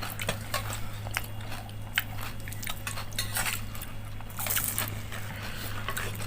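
Metal spoons clink and scrape against dishes while fuchka is served: quick, bright, irregular taps at close range over a steady low hum.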